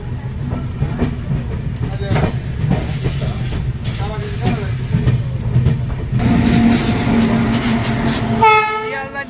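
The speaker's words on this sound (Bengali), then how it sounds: "শিয়ালদা নিউ আলিপুরদুয়ার পদাতিক এক্সপ্রেস এনজেপি স্টেশনে এন্টার করছে" Sealdah–New Alipurduar Padatik Express pulling into NJP station: a loud, close, steady rumble and clatter of the train, with horn-like tones and rising wheel squeal near the end.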